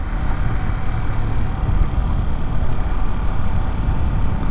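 Engine noise from a new 2025 Yamaha R15 motorcycle with under 100 km, suspected of a cam chain rattle: a steady, close, loud low rumble with a continuous broadband mechanical drone and no talking.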